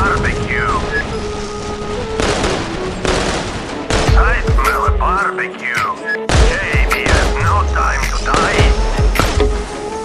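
Assault rifle rapid fire in a video game crackles in loud repeated bursts, with a voice talking over the gunfire throughout.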